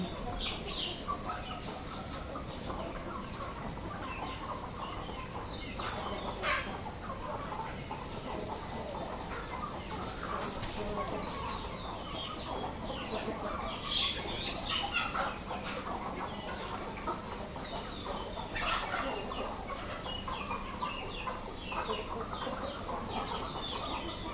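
Home-raised chickens cluck and squawk steadily during feeding, a busy flock close by with repeated sharp calls and occasional wing flaps over a constant background.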